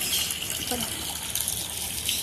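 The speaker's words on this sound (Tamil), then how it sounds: "வா தண்ணி வருதுங்க." Water gushes out in a loud, steady, continuous rush with no break, and no voices are heard over it.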